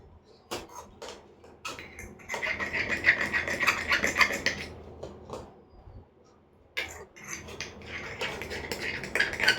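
A metal spoon stirs and scrapes inside a pot of biryani being cooked with oil, giving irregular clinks and scraping bursts at close range, with a brief pause before the scraping resumes.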